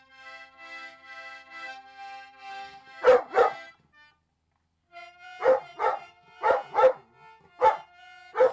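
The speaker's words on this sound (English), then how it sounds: "My dog's going nuts" A dog barks at a nearby accordion playing sustained reedy chords, sharp loud barks coming in pairs and clusters over the droning notes, then a pause before more barks as the instrument resumes.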